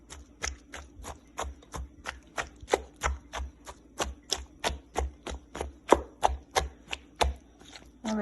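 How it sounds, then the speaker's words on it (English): Roasted vegetables being crushed: a steady run of about twenty sharp, close knocks at a quick, even rhythm, each a short impact with nothing else heard between them. "Slightly crush the vegetable."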